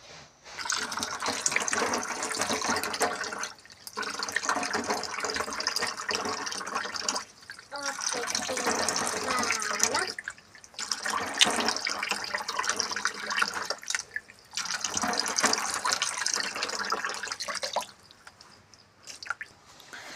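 Tap water running and splashing at a sink as a face is rinsed, three long bursts of pouring and splashing broken by short pauses, close and steady with no talk.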